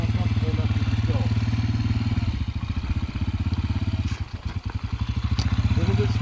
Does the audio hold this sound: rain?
no